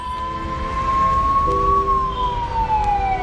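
A private car converted into an ambulance in Delhi sounds its siren, a loud, sustained wailing tone that rises slightly and then slowly falls, with traffic rumble underneath.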